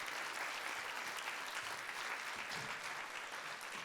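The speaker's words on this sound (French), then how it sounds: "Applaudissez, s'il vous plaît" Sustained applause from a morning book-prize audience as André Dorsonens is welcomed to hand out a youth booksellers' award, steady hand-clapping that fills the room at an even level throughout without pause.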